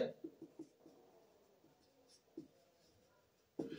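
Pen writing on paper while working a maths problem, faint scratchy strokes and taps in short bursts, close and quiet, with no talking.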